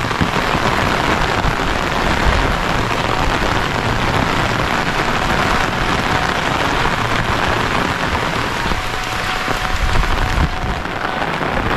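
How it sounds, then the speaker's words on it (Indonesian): Heavy rain pouring after a long dry spell, a dense continuous hiss of drops on surfaces, steady and loud throughout with no voices. "Hujan pertama sahabatnya"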